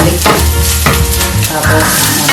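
Garlic sizzles steadily in a hot home-kitchen pan, loud and close, with intermittent stirring scrapes under a constant frying hiss.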